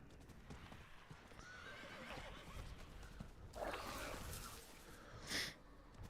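Hooves clop steadily while a horse gives a shrill neigh midway and a short snort near the end, fairly quiet overall, in the video game Diablo 4.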